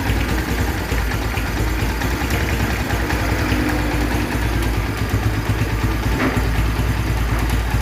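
A hot motorcycle engine idles steadily and close, its loud continuous rumble carrying a faint irregular ticking and knocking, with no talking over it.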